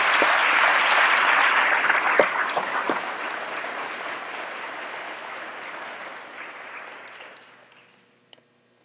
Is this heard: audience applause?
yes